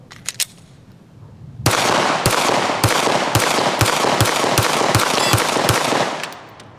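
Gen 6 Glock pistol fires at a range, first two quick shots, then a short pause and a loud, rapid string of about nine evenly spaced cracks, close and dominant, with no talk.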